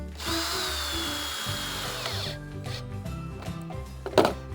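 Power drill drives a screw into a wooden garden table, a steady whirring run that winds down, followed by a few shorter bursts and clicks nearby.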